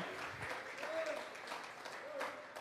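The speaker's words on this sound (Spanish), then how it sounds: "Vamos a regalarle ofrenda de palmas al Dios de la gloria." A church congregation claps as an offering of praise to God during a Thursday Bible doctrine service, with faint, steady applause lasting throughout and a voice speaking over it.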